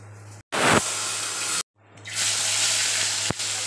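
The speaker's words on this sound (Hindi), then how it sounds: "मैं अभी ऑयल ऐड कर रही हूँ मछली फ्राई करने के लिए" Cooking oil in a pan for frying fish, heard as loud, bright hissing and sizzling in bursts separated by short silences, close up, with a brief clatter near the end.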